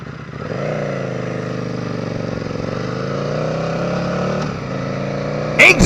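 A Buell motorcycle engine runs steadily nearby, a sustained droning roar with a slight pitch rise and dip as it rides, ending with a brief clatter.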